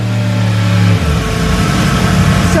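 A 2021 Yamaha R1M motorcycle revving hard on a dyno through its exhaust, a loud sustained engine howl that drops in pitch briefly as it shifts, then climbs again, close and continuous.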